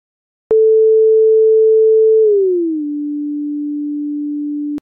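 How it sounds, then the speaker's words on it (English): A synthesized sine tone holds steady at a higher pitch, then glides smoothly downward to a lower, slightly quieter pitch and sustains there before cutting off abruptly, with a click at the start and end. "it will play a high frequency at a high amplitude, then transition to a low frequency at a low amplitude"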